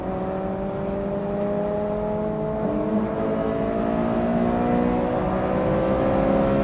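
A 2024 ND3 Mazda Miata sports car engine revs hard above 6,000 RPM, a loud, steady rising drone heard from inside the cabin with no talking.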